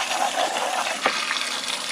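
Water from a hose sprays into the plastic filter housing of a Dolphin robotic pool cleaner. The splashing is close and continuous, with a gushing, spattering texture throughout.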